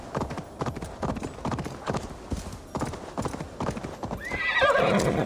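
Rhythmic clip-clop of a galloping horse in the video game Assassin's Creed Valhalla, hooves pounding in a steady fast beat, ending with a loud neighing whinny.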